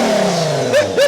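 A car engine with a large turbo idles with a rumbling exhaust, then briefly revs twice in quick blips, loud and close.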